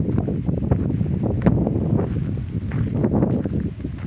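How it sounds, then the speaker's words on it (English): Outdoor breeze during a walk gusts steadily against the microphone as a continuous rushing roar with no voices. "Nice breeze blowing."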